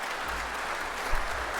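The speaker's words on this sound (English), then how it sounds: "Let's give you a clap." Dense, steady applause from a crowd of many hands, loud and continuous for the whole short stretch with no talking over it.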